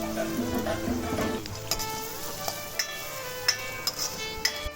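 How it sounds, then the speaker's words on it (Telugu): Chopped onion and beans frying in a pan for egg fried rice, a steady sizzle with scattered clicks and scrapes of stirring, with some background hum early on. "ఒక పెద్ద ఆనియన్ చిన్న ముక్కలుగా తీసుకొని ఫ్రై చేసుకోండి."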